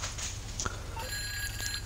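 A phone rings in the GTA 5 Online video game, a short electronic ringing tone at moderate level over a busy background of game sound.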